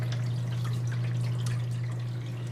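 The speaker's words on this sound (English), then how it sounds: "Plenty of bubbles. Pump's running." A Scotsman CU1526 ice maker pump runs steadily, circulating sanitizer water over the distributor, with a constant hum under light bubbling and dripping trickles.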